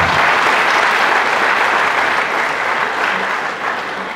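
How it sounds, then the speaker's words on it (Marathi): Students at a college induction programme applaud together, a dense, sustained wash of clapping from a large group that fades slightly toward the end. "पुन्हा एकदा आपण स्वतःसाठी टाळ्या वाजवाव्या"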